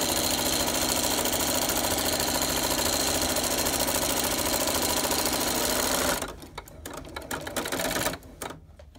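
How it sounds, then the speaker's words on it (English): A sewing machine stitches tote bag handles right sides together, running in a loud, continuous rapid rattle for about six seconds before slowing into short bursts and stopping. "Now we're just gonna sew them right sides together."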